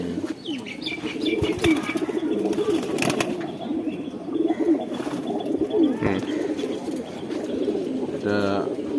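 Repeated low cooing from a black-necked female pigeon nearby, layered with other bird chirps and occasional wing flaps, while a person talks over it.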